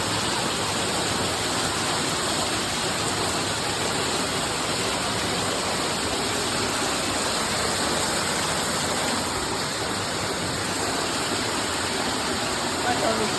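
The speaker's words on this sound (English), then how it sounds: "This is called Rainbow Waterfall" Rainbow Waterfall in a New York state park pours in a constant, loud, broadband roar of falling water, steady and unbroken throughout.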